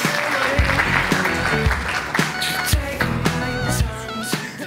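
Audience applause at an organic products award ceremony as winners come up for a trophy, lively steady clapping from a sizable crowd with music playing underneath and a few louder accents.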